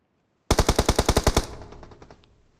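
Gunfire in a multiplayer shooter game: a sharp burst of about ten rapid, loud automatic shots in even rhythm, then a fading echoing tail, with no voices.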